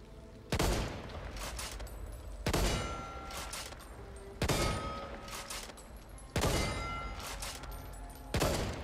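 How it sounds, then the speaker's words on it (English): Barrett M95 rifle firing in the Back 4 Blood video game: five loud, evenly spaced single shots, each a sharp heavy boom with a ringing tail, about two seconds apart. "then we have the Barrett M95, which this gun, surprised the hell out of me actually seeing it in the game"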